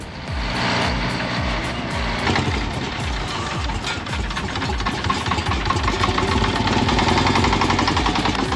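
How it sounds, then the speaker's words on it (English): An old truck nicknamed Hank, powered by a Detroit diesel engine, roars loud and close in a steady, rough, rumbling drone with rapid firing pulses that holds throughout. "old machine known as Hank comes back to life with its Detroit diesel engine roaring once again"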